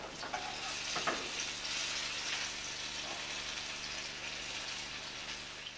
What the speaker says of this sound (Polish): Naleśniki będziemy układać na rozgrzaną patelnię z klarowanym masłem.